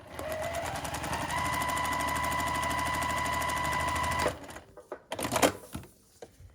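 A sewing machine stitches quilt pieces in a fast, steady whirring run of needle strokes, up close, then stops and gives way to handling noises.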